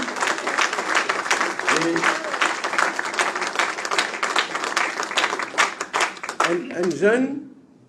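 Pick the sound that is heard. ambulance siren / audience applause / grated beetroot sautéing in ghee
audience applause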